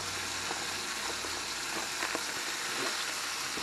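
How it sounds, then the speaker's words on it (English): Mushrooms sauté in a hot pan, giving a steady, even sizzle and frying hiss with faint stirring clicks, heard alone throughout. "I'm going to throw some mushrooms in the pan here, get them sauteed up"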